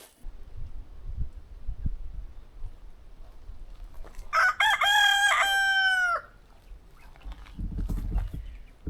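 A rooster crows once in a chicken run, a loud, clear cock-a-doodle-doo lasting about two seconds midway, with quiet rustling and faint low outdoor noise before and after.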